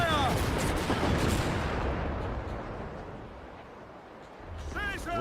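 Cannon fire from a sailing ship in a video game rolls out as a loud, sustained barrage of booms and rumble, fading slightly mid-way before swelling again, with a voice shouting over it.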